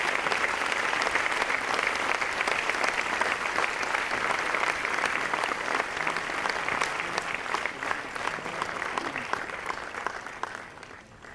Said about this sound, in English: We'll request continued round of applause even as the photographs are on.